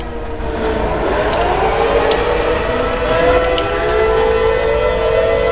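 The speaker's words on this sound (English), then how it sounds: "in case y'all haven't heard tornado sirens, now you know how scary they sound" A tornado siren wails steadily in the distance, its tone slowly rising and falling over a constant background rumble.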